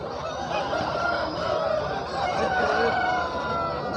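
Chickens and roosters at the Kavundapadi rooster market, with dense overlapping clucking and crowing throughout, busy and close, under a constant crowd murmur.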